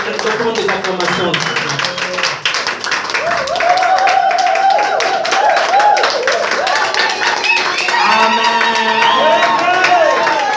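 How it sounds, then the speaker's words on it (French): Church congregation clapping and cheering during a lively worship service, with continuous applause and whoops over singing voices and talk throughout. "Offre à Dieu des acclamations."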